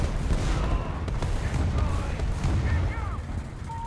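Gunfire in the military video game Arma, heavy low booming and rumbling rolling continuously, with faint voices in the background.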